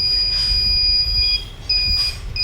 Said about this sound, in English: So when the burglar comes in contact, it makes a sound.